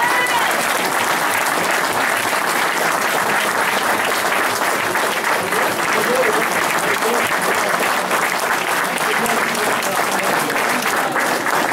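Audience applause at a Stafford Rangers football end-of-season awards night: a large room of people clapping steadily and loudly for the whole stretch, a dense unbroken patter with faint crowd murmur beneath.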